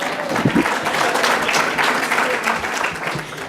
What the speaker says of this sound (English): now I want you to give yourselves a round of applause for making it here this morning